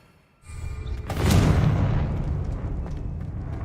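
A Confringo blast spell fired in Hogwarts Legacy lands as a loud, deep boom with a rolling fiery roar that swells after a brief quiet start and keeps rumbling to the end.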